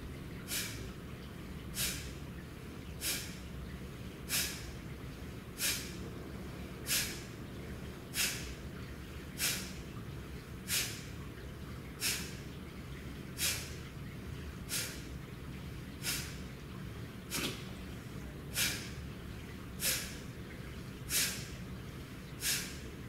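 Slow, steady Kundalini yoga breathing with evenly timed inhales and exhales, sharp airy breath bursts recurring about every second and a half, close and alone.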